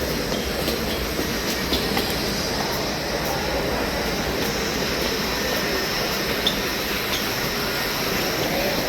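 A train rumbles through Kharghar station in Navi Mumbai, a continuous loud rolling roar with wheel noise and faint squeal, steady across the whole stretch.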